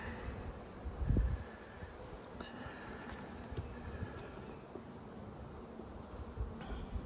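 Honeybees buzz softly around a plastic frame lifted from a hive during an inspection, a low continuous hum with a brief thump near the start and faint handling noises.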